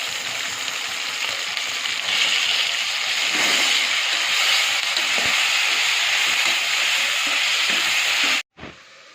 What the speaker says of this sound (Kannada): ಉಪ್ಪು ಹಾಕೋದ್ರಿಂದ ಈರುಳ್ಳಿ ಟೊಮೊಟೊ ಬೇಗ ಚೆನ್ನಾಗಿ ಸಾಫ್ಟಾಗಿ ಫ್ರೈ ಆಗುತ್ತೆ